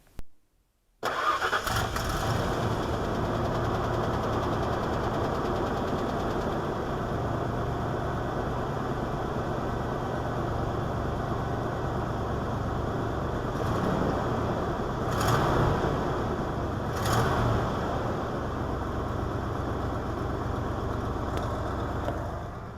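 A truck engine cranks and catches after an oil change, then settles into a steady, fairly loud idle for about twenty seconds with no one talking.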